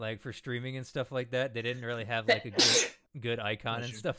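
A single sharp sneeze bursts out midway through steady conversational talk during a casual gaming session, with a brief silence right after before the talking resumes.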